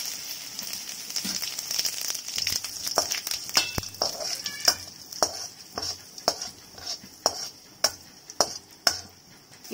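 Fennel and cumin crackle and sizzle in hot oil with popped mustard seeds for prawn thokku, a steady bright frying hiss punctuated by spattering pops and stirring clicks close by.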